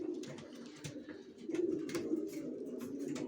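Racing pigeon chicks of Long and Johnson strains coo in a home loft, giving soft throaty rumbles that swell and overlap, with a few faint chirps and scuffs. The cooing is close and grows fuller partway through, with no talking.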